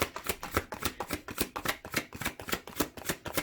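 Tarot cards are riffled and shuffled by hand in quick, even bursts, a close, soft rhythmic fluttering repeating about three times a second with no talking.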